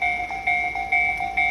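A railway crossing alarm at a Tobu line crossing in Kasukabe rings steadily while a Hibiya Line train approaches: two sustained bell tones pulse in a regular beat, loud and close, with no talking.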